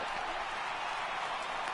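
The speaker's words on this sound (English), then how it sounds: "Crowd gets up for the 3-2." Stadium crowd in MLB The Show 18 rising in sustained, even cheering and roar, a dense wash of distant voices during a full-count moment in an extra-inning game.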